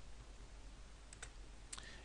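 Short clicks of a computer keyboard typed in a quiet room during HTML and CSS coding, a few light taps then a small burst near the end, faint and isolated with no talking.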